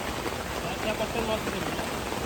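Steady rain falls near water at a Konkan fishing spot, an even, continuous hiss from start to end without any clear break.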